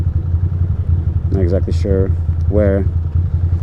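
A motorbike cruising along a Brooklyn street, its low steady engine hum running throughout beneath a short stretch of close-up talk.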